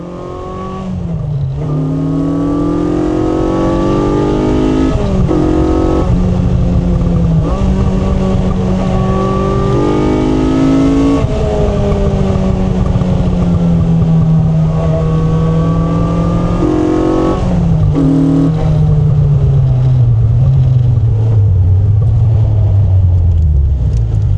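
A Caterham CSR 200 sports car's 2.3-litre Ford Cosworth engine revs loudly and continuously, its pitch rising and falling through the gears, with a steady roar throughout.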